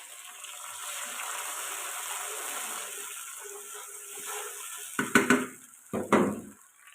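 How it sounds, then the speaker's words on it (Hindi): Water poured into a pan of browned onions while cooking khichdi, a steady sizzling hiss that fades, followed by two short loud bursts of splashing and clattering near the end. "अब हम इसमें थोड़ा सा पानी ऐड कर देंगे।"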